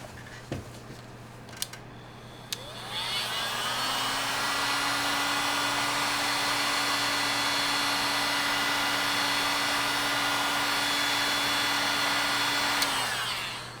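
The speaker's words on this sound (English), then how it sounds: "I'm going to go ahead and see if this heat shrink works good" A heat gun roars on and holds a steady, loud blowing hum while shrinking heat shrink tubing over a battery wire connection on an electric skateboard, preceded by a few faint clicks and handling taps.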